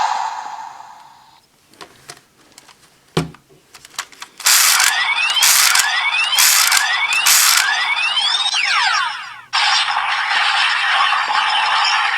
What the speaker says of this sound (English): The transformation into Flight Style.